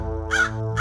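Crow cawing twice, two harsh nasal calls close and loud over a low steady hum, no talk.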